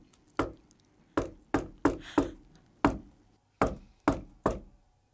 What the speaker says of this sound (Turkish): Belgin abla böyle çalmaz ki kapıyı.